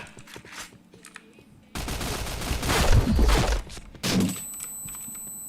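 A burst of rapid automatic gunfire in a shooting video game rattles loudly for about two seconds, followed by a single heavy shot, between quieter stretches of game ambience.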